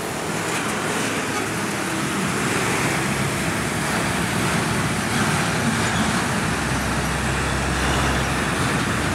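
Heavy holiday traffic on the Puncak road toward Bandung, with private cars and big trucks, heard as a dense steady roar of passing vehicles and a low rumble swelling near the end.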